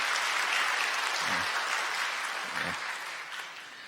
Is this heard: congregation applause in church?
yes